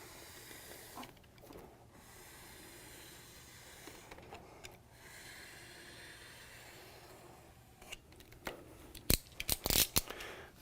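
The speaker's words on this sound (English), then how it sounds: "Then I'll take a knife and I'm going to lightly score the film, not cutting into the release liner." A knife lightly scores laminating film on a GFP 865DH roll-to-roll laminator, giving faint hissing scratches in short bursts over a quiet background, with sharper clicks and scrapes near the end.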